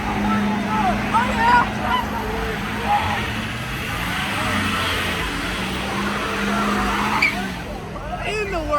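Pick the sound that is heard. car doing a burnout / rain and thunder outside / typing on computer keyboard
car doing a burnout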